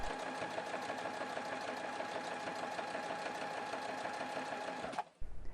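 A sewing machine runs steadily as it stitches through denim in a test run, its fast even mechanical whirr and needle rhythm holding close and loud before stopping abruptly near the end.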